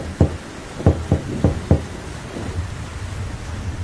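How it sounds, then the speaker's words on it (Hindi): Five loud, hollow knocks land on the door of a bird's nest in a cartoon, in a quick uneven sequence over about a second and a half, followed by a quiet rainy-sounding background. "बल्लू घोंसले का दरवाजा खटखटाता है।"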